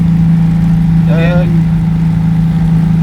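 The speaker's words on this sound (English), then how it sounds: "I've driven one with a 652 Visa engine. Still not revving too hard." A Citroen 2CV car engine idling and running steadily with a constant low drone, while a voice briefly speaks over it.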